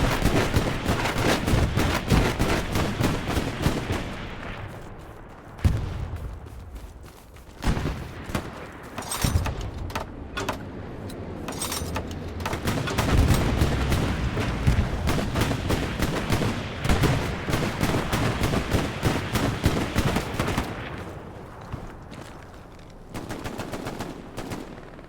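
Tank gunfire in a video game battle: loud, dense bursts of rapid machine-gun fire and heavy cannon booms, with brief pauses between volleys.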